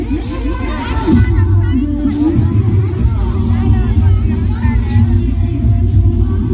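Dense crowd babble at a Navratri festival fair on a hill temple ground, loud and continuous overlapping voices with a low rumble underneath.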